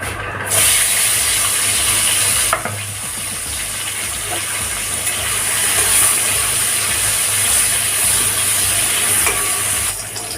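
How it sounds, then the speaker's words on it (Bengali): Pointed gourd pieces frying in hot oil tempered with cumin seeds, a loud, steady, close sizzle with occasional stirring. "এবার আমি এই তেলে আমার পটলগুলো ভেজে নেব"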